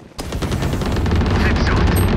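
Rapid automatic gunfire in a first-person shooter video game, loud and close, begins after a brief quiet moment and keeps going as a dense burst of shots. A voice is also heard.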